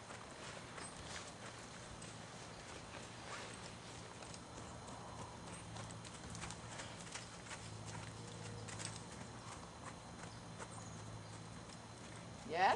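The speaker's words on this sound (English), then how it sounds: "get the horse to tip more and more, step into the water" A horse, a Morgan mare, steps and walks steadily through water, its repeated hoof falls heard under continuous outdoor noise while a person gives spoken directions throughout.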